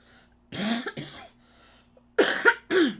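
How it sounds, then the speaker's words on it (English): Someone coughs twice in quick bursts, pauses, then coughs twice more, close and fairly loud in a quiet room. "excuse the coughing"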